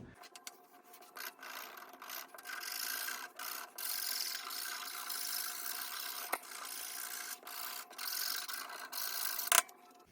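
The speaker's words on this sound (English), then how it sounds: "This is just a Craft Tool Pro rougher. Gets the job done." A Craft Tool Pro rougher scrapes across leather for a firefighter/EMS radio bucket, giving close, steady rasping strokes in bursts with brief pauses between them, no talking.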